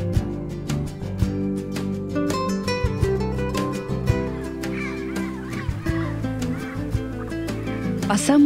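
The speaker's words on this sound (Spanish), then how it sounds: "Pasamos una bandada de loros habladores." A flock of talkative parrots calls repeatedly in Chaco savanna under a cloudy sky, with harsh squawks and chatter sounding close and loud, layered over a dense, continuous wash of other bird calls throughout.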